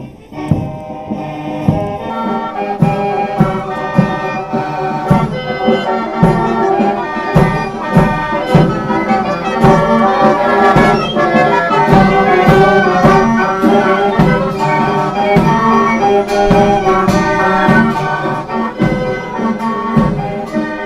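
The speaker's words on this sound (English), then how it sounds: "what if a marching band runs into an accordion band? What happens then?" Simulated clash of a marching band and an accordion band: dense layered brass, reeds and drums play continuously with sharp percussive hits, loud and busy, with no talking.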